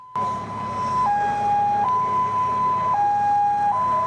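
An emergency vehicle siren from an ambulance wails steadily in a two-tone pattern, alternating between high and slightly lower pitch, loud and continuous throughout with traffic rumble beneath.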